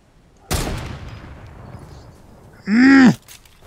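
Fortnite gunfire: a single sharp shot that rings out and decays, followed later by a louder burst with a tonal, sweeping in-game sound, set against quiet background.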